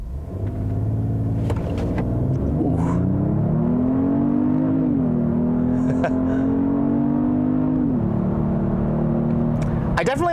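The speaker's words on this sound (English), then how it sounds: "let's just try a quick brake torque and flooring it" A Genesis GV80 3.5T SUV, its 3.5-liter turbocharged engine held on brake torque, then floored hard, with a deep rising drone climbing through the revs and shifting, loud and close throughout.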